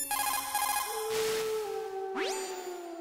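Codec call ringing from the Metal Gear Solid video game: a steady electronic ringing tone that gives way to rising and falling synthetic sweeps as the call connects, clear and close with no talk.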